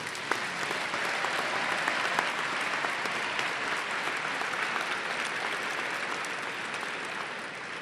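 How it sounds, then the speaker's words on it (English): Sustained, even applause from an audience at an academic convocation, a dense wash of many hands clapping at moderate distance for nearly eight seconds with no talking over it. "So one last round of applause for Lev."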